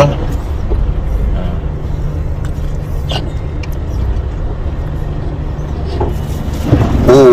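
Car passing along a flooded road near the Blang Bintang toll gate during rain, a continuous rushing wash of water and tires with a low engine rumble and scattered splashes, swelling louder toward the end.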